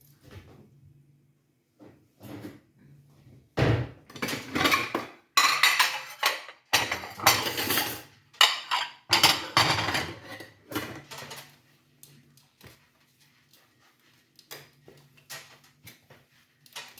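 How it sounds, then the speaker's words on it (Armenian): Ceramic plates clatter and clink as they are stacked into a kitchen cupboard, with cupboard doors thudding and scraping; a dense burst of loud dish knocks in the middle, quieter rattles at start and end, close and untalked over. "Ափսեները հիմա բոլորը դնում եմ դարակը,"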